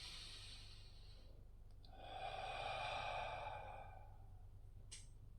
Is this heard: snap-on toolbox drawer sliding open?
no